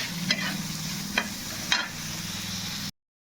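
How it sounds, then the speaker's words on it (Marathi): Bitter gourd warms in a hot tawa pan with a soft, steady sizzle and a few scraping stirs, close and fairly quiet, ending abruptly. "मी कारलंय थोडं गरम केलंय तव्यात."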